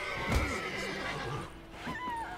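A horse in The Witcher 3 gives a clear, prominent whinny over about two seconds, with no talk over it.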